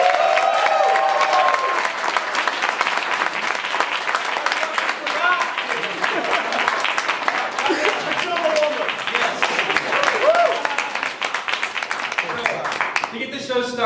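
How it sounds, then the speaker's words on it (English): A live improv class performance audience applauds in a dedication to Tim Simonson: dense, sustained clapping from a crowd that fills the room for about fourteen seconds and tapers slightly near the end. "Give him a round of applause."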